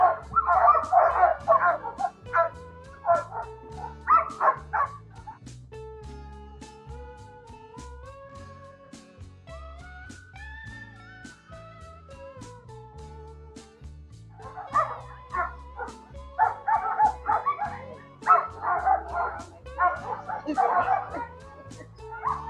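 Iditarod sled dogs yip, whimper and bark in an excited chorus at the ceremonial start in Anchorage, Alaska, loud bursts at the beginning and end with a quieter stretch between, mixed with crowd noise and a voice over a loudspeaker.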